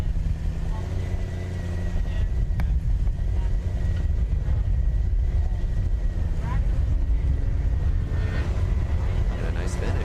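A Formula SAE combustion race car from Dearborn finishing an autocross run: a steady, loud engine drone with a few rising revs holds throughout, while voices talk over it.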